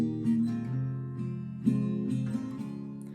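Close acoustic guitar strumming in a repeating pattern of four down strums followed by one up strum, steady and moderately loud, played alone without talking.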